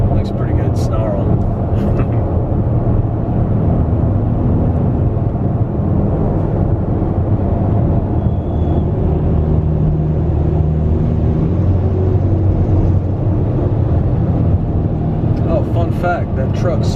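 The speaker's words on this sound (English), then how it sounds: "But if I want to, makes a pretty good snarl" A 2019 Porsche Cayenne S engine drones heavily from inside the cabin under acceleration, a loud, sustained low growl that shifts in pitch as it pulls, with brief noise bursts at the start and end.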